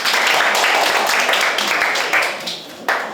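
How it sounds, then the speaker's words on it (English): A classroom of students applauds a classmate with dense, steady clapping that fills the space, thins toward the end, and has a voice briefly mixed in. "Clap for him."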